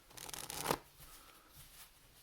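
Playing cards being shuffled by hand, a short crisp riffling burst that builds for under a second and then cuts off, followed by faint quiet handling, close and soft with no talking.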